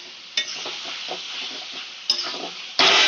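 Chicken being stir-fried in oil in a pan, a steady loud sizzle with a few sharp metallic scrapes of a utensil against the pan and a sudden louder burst of frying near the end, no talking.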